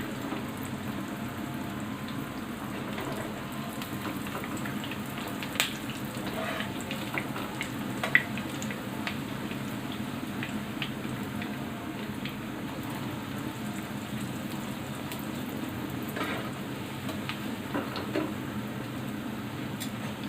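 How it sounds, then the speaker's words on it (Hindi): Pieces of food frying in hot ghee for an Eid dish, giving a steady, moderately quiet crackling sizzle with scattered pops throughout, no voices. "घी गर्म हो चुका है, इसके अंदर एक एक पीस डालते हैं। और फ्राई कर लेंगे।"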